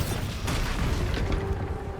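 A Bombarda blasting spell in the Hogwarts Legacy video game erupts in a dense, rumbling explosion with a sharp burst near the start, then a sustained low roar and crackle for about two seconds.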